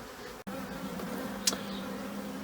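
Honeybees being moved from a single long hive into a double long hive, their steady low buzzing drone filling the air close by, with one brief brighter buzz passing near the middle.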